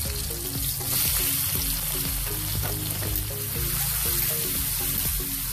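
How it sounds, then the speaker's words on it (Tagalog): Tomato, chicken and pork sautéing in a hot pan, a steady dense sizzle with rhythmic scraping and stirring strokes running throughout, close and fairly loud with no talking. "Igisa lang natin ito guys mabuti hanggang sa maluto ang ating mga meat."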